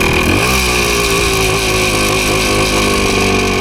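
A PE250 dirt bike engine runs loud and close with the throttle cracked open, holding a steady droning rev with a brief rise near the start.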